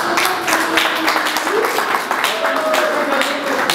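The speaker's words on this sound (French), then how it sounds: "Applaudissez pour elle, s'il vous plaît." Audience applause at a French-language awards ceremony for a best supporting actress winner, steady dense clapping throughout with voices and a musical tone running underneath.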